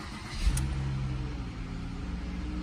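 A 2012 Ford Fusion with a newly replaced PCM starts with a short burst, then settles into a steady, even idle close to the microphone.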